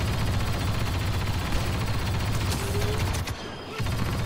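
A minigun fires in Star Wars Battlefront: a dense, continuous mechanical rattle of rapid shots, loud and close, broken by a brief pause near the end before it resumes, with no talking.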